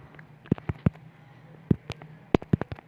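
Bomb blasts in a hand-combat video game go off as sharp, booming bursts in irregular clusters, a couple early, one mid-clip and a rapid run near the end, over a faint background hum.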